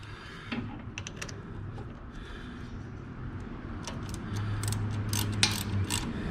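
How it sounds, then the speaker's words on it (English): A ratchet wrench tightening the oil drain valve on a John Deere Z920M zero-turn mower, its rapid clicking pawl heard up close in bursts, growing busier toward the end over low background noise. "let's tighten the drain valve back up"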